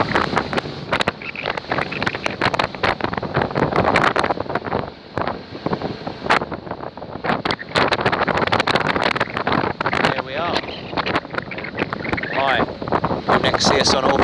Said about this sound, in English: It's only a short boat trip.